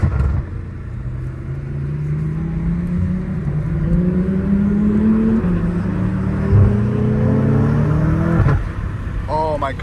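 A BMW M5 Competition sedan with catless downpipes drives past as its engine rumbles and revs rise, followed by sharp exhaust pops near the end, with someone talking over it from inside the car.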